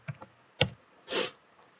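A few keys are pressed on a computer keyboard: two light taps, a sharper click, then a slightly longer muffled press, all close and quiet.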